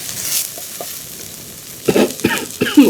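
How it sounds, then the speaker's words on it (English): Red and green chilies stirred in a hot pan while crab is being cooked, heard as a few soft scrapes and then a run of louder, close, clattering strokes with a light sizzle underneath. "So just give this a quick stir through."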